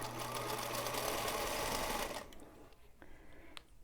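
Sewing machine chain piecing quilt rows, running steadily and close for about two seconds before stopping, followed by faint handling clicks.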